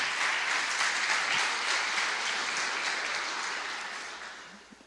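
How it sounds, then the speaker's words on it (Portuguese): Evening church congregation applauding together, a thick sustained roll of clapping from many hands that gradually fades toward the end, with no voices over it. "Você pode aplaudir a Jesus nessa noite?"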